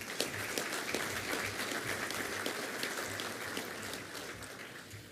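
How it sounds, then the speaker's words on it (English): Audience clapping at a Hall of Fame ceremony, a steady dense round of applause sustained throughout and easing slightly toward the end. "Let's give a welcome round of applause to Superintendent Mike Poore."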